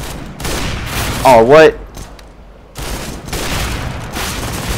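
Counter-Strike: Global Offensive gunfire crackles in a sustained, dense burst across the clip, with a brief louder swell near the middle, while a player talks over it and exclaims in surprise.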